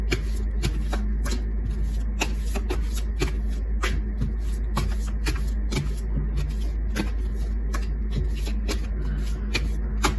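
Tarot cards being shuffled up close, a steady run of crisp papery riffles and taps repeating throughout, with no talk over it.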